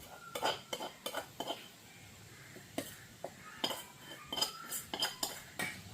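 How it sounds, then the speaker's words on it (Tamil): Chopped onion, green chilli and fried cutlet filling mixed by hand in a bowl, with repeated close clinks and scrapes of a spoon against the bowl in an irregular rhythm, fairly quiet. "எல்லாத்தையும் உண்டா போட்டு மிக்ஸ் பண்ணுவோம்"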